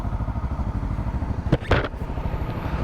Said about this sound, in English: So this Honda's getting a bit warm. It's running pretty smoothly.